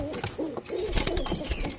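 Pigeons pairing up in a loft give short cooing calls over a busy, noisy background, with a few brief coos in quick succession.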